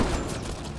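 Dense, loud gunfire in the sci-fi shooter Mass Effect Andromeda, a continuous rattle of shots with no pause across the short moment.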